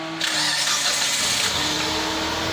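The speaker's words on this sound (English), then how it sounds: "let's try to start the car and see what we get." A 2003 Mitsubishi Lancer with a crank/no-start fault and no spark cranks over on a start attempt, a loud, steady, continuous whirring churn that runs nearly the whole time without catching, with no talking.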